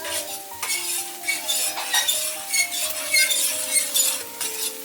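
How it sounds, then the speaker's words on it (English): A fork whisking eggs in a bowl during home cooking, quick repeated metallic scraping and clinking strokes in an uneven rhythm, close and fairly clear, with faint sizzling from a pan nearby. "we're going to whisk the eggs with the fork"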